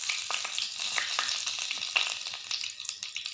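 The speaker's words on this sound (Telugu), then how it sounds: "చిన్న చెక్క దాల్చిన చెక్క అన్నీ కూడా మంచిగా వేయించుకోవాలి" Whole spices, bay leaves, cardamom, cloves and cinnamon sticks, frying in hot oil for a cauliflower masala curry, giving a steady close sizzle with small crackles and light stirring scrapes.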